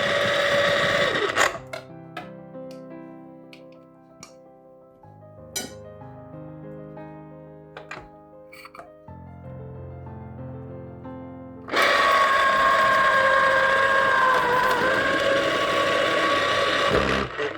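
A KitchenAid citrus juicer motor starts up loudly and runs steadily for the last several seconds, after a stretch of clinking and handling noises.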